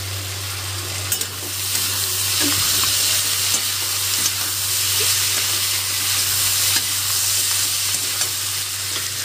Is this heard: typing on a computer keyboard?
no